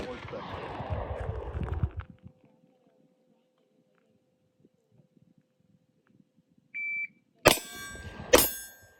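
Two sharp handgun shots fired with the support hand during a police firearms qualification course, ringing out close and loud about a second apart near the end, after a timer beep and a stretch of quiet.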